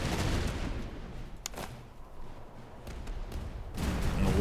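Musket volley fire rings out in the video game Master of Command as Prussian Cantonist recruits fire on Hungarian grenadiers. Sharp cracks of scattered gunfire and rolling battle noise swell loud, dip in the middle, then build again.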